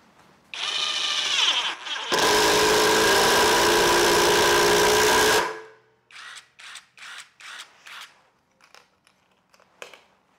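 A compact 12-volt cordless impact driver whirs up briefly, then runs in a loud sustained burst for several seconds, followed by a series of short rapid hammering pulses.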